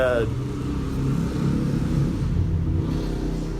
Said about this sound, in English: motorcycle driving by